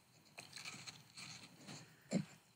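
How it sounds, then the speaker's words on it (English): Apple being bitten: soft rustles and faint mouth noises lead into one sharp, close crunch near the end of a quiet stretch. "Maggie, he was eating an apple."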